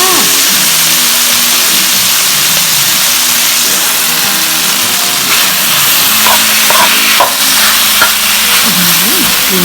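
Pad kaprao, Thai holy basil stir-fry, cooks in a pan with a loud, close sizzle and scraping stir strokes, while a low engine-like hum and drifting tones run underneath.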